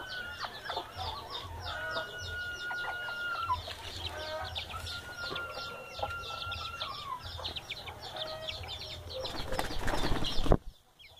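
Chickens and small chicks in a poultry yard, heard as faint, busy clucking and peeping that goes on steadily, followed near the end by a brief louder rustle before things go quiet.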